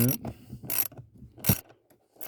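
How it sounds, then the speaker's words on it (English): A ratchet with a socket tightens a screw while a blower resistor is replaced on a 2005 Toyota Tacoma, giving a few close, quick bursts of clicking strokes with short pauses between them. "Get my ratchet on there. Tighten her"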